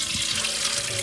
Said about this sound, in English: on the side here we've got a water tank as well. Oh, and it works perfectly.